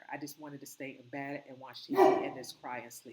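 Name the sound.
dog barking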